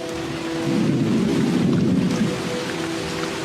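Heavy rain pours steadily while a deep roll of thunder rumbles and swells, loud and close, in the northern Serengeti.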